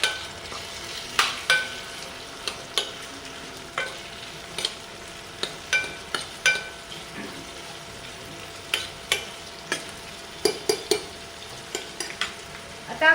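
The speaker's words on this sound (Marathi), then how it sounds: "तर मी टमाटर टाकते." One onion and one tomato frying in a pan for masoor dal amti, a low sizzle under repeated sharp clicks and scrapes of a spatula against the pan, close and fairly quiet.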